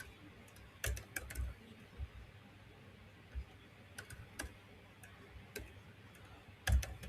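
Code being typed on a computer keyboard gives sparse, irregular clicks and short bursts of keystrokes, quiet and close, over a soft background hiss.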